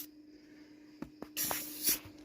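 Short bursts of aerosol lubricant spray hiss into the engine linkages of a 1992 Isuzu pickup truck, two quick sprays after a couple of faint clicks, close and fairly quiet.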